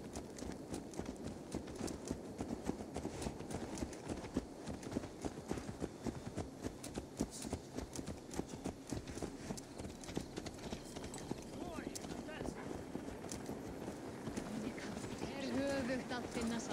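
Horse hooves gallop in Assassin's Creed Valhalla, a rapid continuous clip-clop running steadily throughout, loud and close, with voices speaking over the ride.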